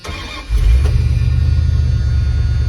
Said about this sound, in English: Let's see how the old Dodge starts.